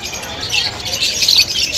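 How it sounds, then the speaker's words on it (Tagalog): A crowd of lovebirds, including opaline pairs, chirps in a busy chorus of high, overlapping tweets close by, with a murmur of people in the background. "Ang daming ibon"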